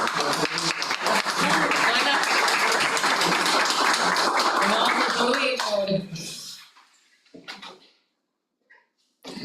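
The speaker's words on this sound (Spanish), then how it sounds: "Un aplauso final." Final round of applause closing a talk on gambling addiction and digital footprints, dense and loud for about six seconds with voices mixed in, then breaking off into near silence with a few faint knocks.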